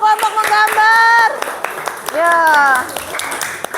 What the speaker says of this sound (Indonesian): beri tepuk tangan dulu yuk untuk kelompok menggambar